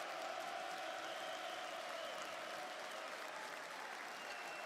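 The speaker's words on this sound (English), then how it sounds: "we're gonna end it how we always do, with a nice round of applause." A live audience gives a steady, sustained round of applause, dense clapping at even loudness with no talk, ending an evening forex trading livestream.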